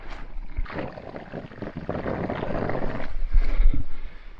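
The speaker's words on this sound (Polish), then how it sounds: "Woda po prostu jest sprowadzana z, źródła w górach tutaj do miejscowości i wydaje taki dźwięk." Mountain spring water gushes and rumbles through a supply pipe in Borjomi, a rough, surging roar that swells and builds toward the end, with no voices.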